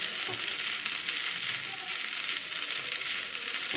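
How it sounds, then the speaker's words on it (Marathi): Soaked sabudana sautéing in ghee in a pan gives a steady, close frying sizzle with soft crackling, continuous and even throughout with no voices. "छान हा तुपावरती आपण परतून घेऊयात साधारण दोन मिनटं"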